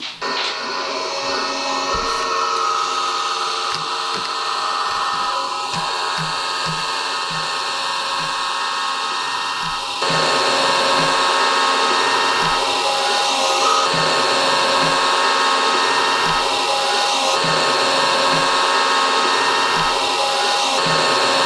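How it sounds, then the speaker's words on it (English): A small motor in a kinetic artwork drives a translucent sheet back and forth, giving a steady whirring hum with soft, regularly repeating clicks and knocks as the material shifts. "Some sort of translucent material, and then it's attached to a motor, so it goes back and forth"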